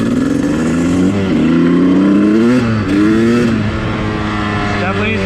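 A 2001 Honda CR250 two-stroke dirt bike, a barn find, revs after a kick start, its engine note rising and falling in loud throttle blips with a brief dip between revs and a voice partly heard over it.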